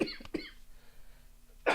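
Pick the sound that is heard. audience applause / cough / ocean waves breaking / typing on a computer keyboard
cough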